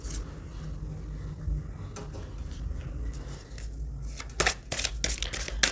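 Tarot cards are shuffled and drawn during a card reading, with soft rustling followed by a cluster of crisp flicks and snaps toward the end, heard close and fairly quiet.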